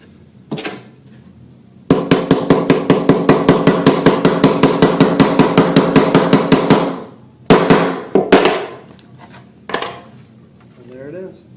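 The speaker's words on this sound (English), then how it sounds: "So when you hammer it, you want to make sure you go around in a circle" Rapid, steady hammer blows ring out close by in a long metallic run on armor torso strapping, then a few separate heavier strikes follow after a short pause.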